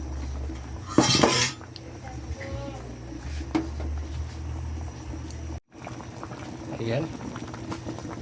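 Okra and eggplant stirred into a simmering fish soup, with a loud clatter of utensil against the pot, bubbling liquid and scattered scraping, all close by.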